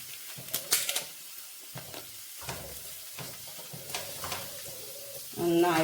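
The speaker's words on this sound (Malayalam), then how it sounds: "നന്നായിട്ട് ഇളക്കി കൊടുക്കുക." Masala with garam masala is stirred and fried in a pan, with a steady sizzle under repeated scraping strokes of a spoon, close and moderately loud.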